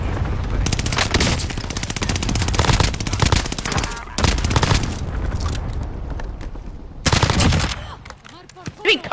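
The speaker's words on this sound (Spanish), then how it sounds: "¡Están disparando!" Rapid automatic gunfire in the video game Warzone, loud dense bursts of shots and explosions filling most of the clip with brief pauses, a voice faintly underneath.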